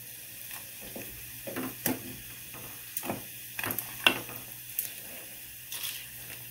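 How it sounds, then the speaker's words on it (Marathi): Water boils quietly in a pot with silver vessels fully submerged for cleaning, giving faint, irregular bubbling pops and soft clinks against a low, steady background. "तर 3 ते 4 मिनिटे आपण हे भांडे ठेवून हे पाणी उकळून घ्यायचं आहे"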